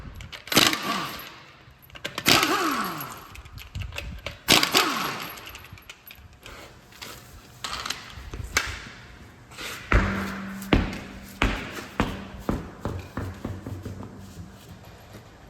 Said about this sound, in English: So 21 mil, get these wheel nuts off.